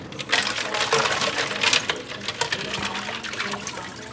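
Cold water pouring out of a pot of freshly cooked eggs into a sink, a steady splashing trickle with small clinks, heard up close and alone.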